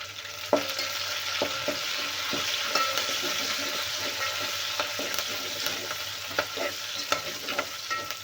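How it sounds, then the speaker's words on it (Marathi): Curry leaves roast in a pan with a steady, close sizzle, while a spoon scrapes and taps against the pan now and then. "कढीपत्ता पण छान भाजून घ्यायचा आहे"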